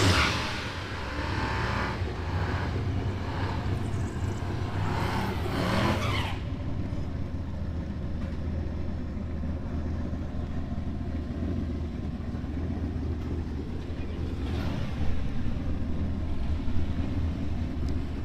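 A turbocharged New Edge Mustang makes a drag strip pass at a street racing event, its engine roaring and revving from a distance over crowd and track noise, the loud rush fading after about six seconds into a steady background rumble.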